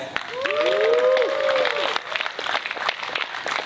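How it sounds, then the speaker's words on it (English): A crowd at a tech pitch showcase summit applauds as a presenter takes the stage, a wash of clapping opened by bright sweeping whistles, then settling into scattered claps and a murmur of voices. "round of applause"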